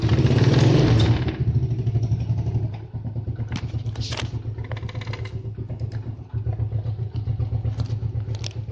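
A Yamaha Vega ZR motorcycle engine idles close by with a steady, chattering putter after a brief louder burst at the start, and small clicks and taps sound over it.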